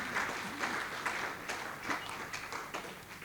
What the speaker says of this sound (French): acclamons-nous, acclamez-vous